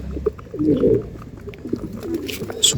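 Pigeons in summer make low, soft cooing calls in short rounded bursts, fairly close, with light background rustle and a brief higher chirp near the end.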